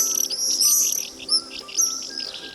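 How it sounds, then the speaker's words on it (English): Swallows near a city riverside give bright, high twittering chirps in quick overlapping bursts, close and clear with no other sounds. "There are swallows"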